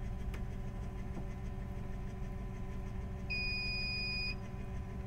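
A steady electronic tone sounds for about a second over a constant mechanical hum, a single sustained beep from a 3D printer starting up.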